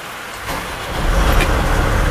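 A 140 tractor engine starting after its oil and fuel filters were changed: a quiet moment, then a low rumbling engine catches and builds to a steady, loud idle close by.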